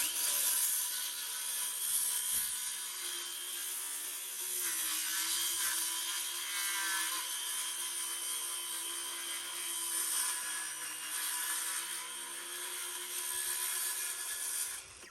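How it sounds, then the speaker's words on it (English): A cordless saw cuts at an angle through a wooden board for a picket fence goat shelter, a loud, continuous high whine that holds steady close by with slight rises and dips. "I'm just using my cordless saw to cut this."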